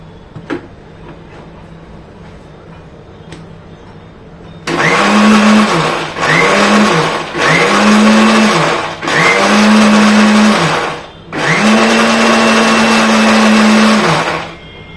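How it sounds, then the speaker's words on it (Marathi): A mixer grinder blends gram flour batter with liquid for dhokla in five loud, close bursts of whirring motor, each lasting about a second or two, separated by short pauses, with no talking. "हे पुन्हा आपल्याला मिक्सरमध्ये फिरवून घ्यायचं आहे।"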